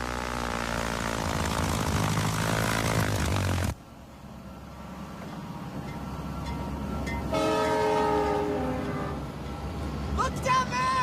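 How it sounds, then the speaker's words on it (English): A train horn blares in long sustained tones, cuts off, then sounds again later over rumbling and background voices. "Look down there! I see his train!"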